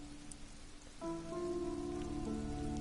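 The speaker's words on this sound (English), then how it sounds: "It's raining in real life now." Real rain falling outdoors makes a constant gentle wash of noise, with sustained musical tones entering after the first second and continuing over it.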